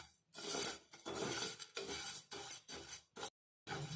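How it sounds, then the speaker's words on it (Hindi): Spice masala stirred and dry-roasted in a kadhai with the gas turned off gives rhythmic scraping and rasping strokes with short pauses between them, close and soft, with no speech. "गैस बंद करने के बाद मसाले को हम थोड़ी देर तक चलाते हुए फिर से भून लेंगे।"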